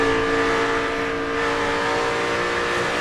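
A NASCAR Cup race car in traffic at the 2006 Banquet 400 roars with a loud, steady engine drone, its revs rising and easing slightly as the throttle is worked, with no talking.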